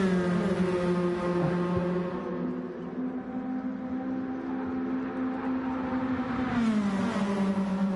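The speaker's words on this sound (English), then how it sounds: "These cars do sound quite cool actually." Steady racing car engine drone in a video game endurance race at Spa, a sustained whine that dips and rises again, a continuous motor sound with no voices.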